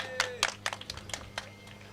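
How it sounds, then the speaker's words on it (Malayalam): A short run of hand claps from a small audience at an informal stage event, about eight uneven claps over roughly two seconds, fairly close and sharp. "നല്ലൊരു കൈയടി."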